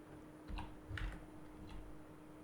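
Keystrokes on a computer keyboard while entering a search term on a Windows 10 PC: a few soft, scattered clicks in small clusters, quiet and close, with no talk.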